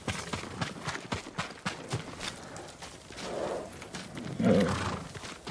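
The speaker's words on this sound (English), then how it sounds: "They're samurai horses." Samurai horses in the game Ghost of Tsushima, hooves clip-clopping in an uneven, steady rhythm close by, with a horse snorting or whinnying near the end under low background ambience.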